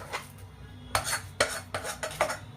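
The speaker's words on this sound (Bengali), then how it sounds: "তারপর এটা আমি ঢেলে দেবো থালা।" Modak mixture being poured and scraped from a pan onto a ghee-greased plate, a handful of loud metallic scrapes and clanks in an uneven rhythm, close by with no talking.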